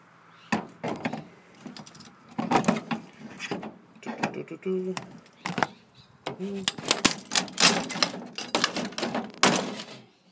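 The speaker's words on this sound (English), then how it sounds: "let's rip off a copper bearing motor" Sharp cracks, snaps and woody thunks come in irregular bursts as components, including a copper bearing motor, are ripped off a low grade circuit board, close and fairly loud, with brief moments of quiet between them.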